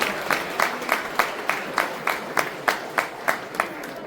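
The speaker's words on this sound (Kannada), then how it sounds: "ಎಲ್ಲರೂ ನಿಮ್ಮ ಚಪ್ಪಾಳೆ ಮುಖಾಂತರ ಇವರಿಗೆ ಧನ್ಯವಾದಗಳನ್ನ ಹೇಳಬೇಕಾಗಿ ಕೇಳ್ಕೊತೀನಿ" Audience applause thanking performers after a stage skit about Sangolli Rayanna in Belagavi, heard as about a dozen sharp, evenly spaced claps in a steady rhythm, moderately loud with no talking over them.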